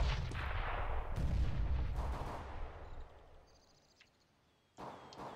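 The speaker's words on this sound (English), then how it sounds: "It's his teammate firing at him." Gunfire from a teammate in a tactical shooter video game match, heard as loud, dense bursts of shots that fade toward silence before another sharp burst near the end.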